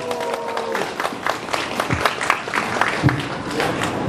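Applause from a crowd at an outdoor political rally in Daegu, a scattered wash of clapping that swells and continues for several seconds, fairly close.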